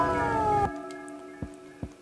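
A cat in the horror video game DreadOut 2 gives one drawn-out, tonal meow lasting under a second, followed by a few faint soft sounds. No one speaks.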